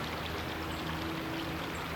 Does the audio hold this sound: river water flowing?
yes